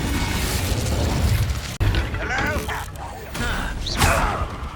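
Incendio fire spell cast in Hogwarts Legacy: a loud, whooshing burst of magical fire mixed with mechanical clanks, booms and sweeping effects in the game's dense combat soundscape.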